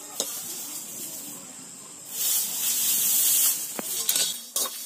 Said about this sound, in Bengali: এগুলোকে এখন শুকনো কড়ার মধ্যে দিয়ে একটু ভেজে